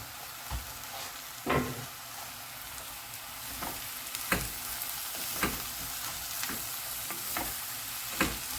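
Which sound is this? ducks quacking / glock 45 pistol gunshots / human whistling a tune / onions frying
onions frying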